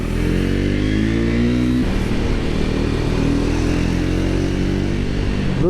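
Triumph Speed 400 motorcycle riding off: a steady, close engine note that rises in pitch, drops at a gear change, then climbs again under continuous wind rush.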